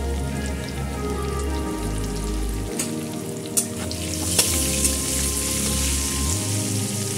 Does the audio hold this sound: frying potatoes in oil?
yes